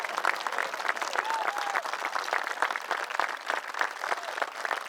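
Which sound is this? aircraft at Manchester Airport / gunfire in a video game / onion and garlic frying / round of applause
round of applause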